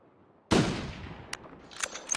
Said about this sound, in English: I'm gonna get this guy with the rifle